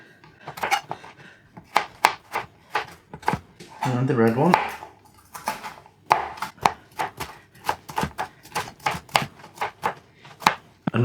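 Rapid knife chops slicing bell peppers strike a cutting board in quick irregular bursts, close and crisp, with a brief spoken remark and a short rustle midway.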